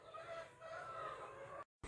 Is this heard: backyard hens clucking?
yes